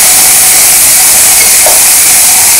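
Chopped tomatoes for paneer bhurji sizzle in a hot pan, a loud steady hiss of steam and frying that runs continuously throughout with no speech.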